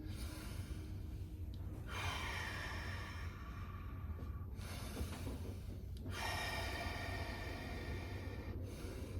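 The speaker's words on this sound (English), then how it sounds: "I want you to breathe through your nose and exhale through your mouth" Long, slow breaths are drawn in through the nose and pushed out through the mouth during yoga stretching, three rushing exhales spaced about two seconds apart over a steady low rumble.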